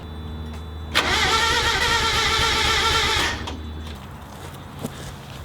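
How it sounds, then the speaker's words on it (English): A Mazda Miata engine cranks and catches in a garage: a sudden whirring crank for about two seconds, then the engine dies back to a quiet room with small clicks. "let's go see if we can fire up the Miata"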